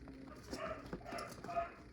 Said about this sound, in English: Extra barking because we're getting a new dog in today, or a second dog for the day